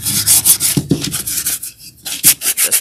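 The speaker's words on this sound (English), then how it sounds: "give it a little sand." Hand sanding across painted wooden Easter decor gives repeated short, scratchy rubbing strokes in an uneven rhythm, close and fairly loud, with a brief pause near the end.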